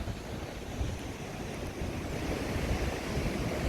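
Water rushes steadily at the Athirappilly waterfall, a soft continuous roar heard from a distance with gentle rumbling and some wind buffeting.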